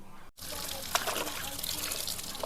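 Water lily stems are swished and rinsed in a basin of water, a continuous trickling, splashing wash with a short break near the start and occasional sharper splashes.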